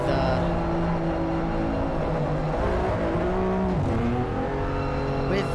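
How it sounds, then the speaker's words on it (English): Race car engines droning steadily onboard during a pace lap at Monza in a sim racing game, with sustained loud engine tones shifting pitch as drivers warm tires and brakes, continuous throughout. "your current pole sitter, Perot, as drivers get their tires and their brakes warmed up during this pace lap"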